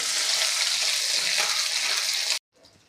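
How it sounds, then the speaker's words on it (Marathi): Ginger-garlic paste sautéing with mustard seeds in a pan for a Maharashtrian stuffed brinjal (bharli vangi) masala, making a loud, steady, close sizzle for over two seconds before it cuts off abruptly, leaving a faint, low crackle. "अर्धा चमचा आलं लसणाची पेस्ट आणि हे आपल्याला दोन मिनटे परतून घ्यायचे आहे"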